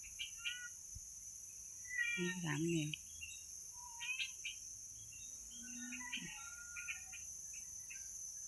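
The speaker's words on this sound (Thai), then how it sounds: "เสียงนกร้อง" Faint bird chirps and short calls drift in from a distance outdoors, scattered through a quiet yard where cats eat grass, with someone speaking softly at times.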